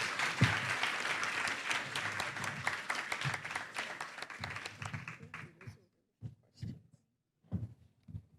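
Audience applause for the guests at the USVI LitFest literary festival, a dense, steady wash of clapping that fades out after about six seconds, followed by a few short bursts of a voice speaking.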